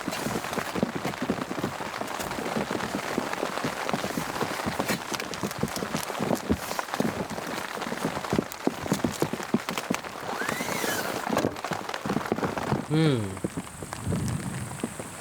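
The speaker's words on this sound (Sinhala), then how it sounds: "එච්චර හයියෙන් වහින්නේ නැහැ හැබැයි." Rain falls on a lakeside campsite, a dense, continuous close patter throughout, with occasional muffled voices.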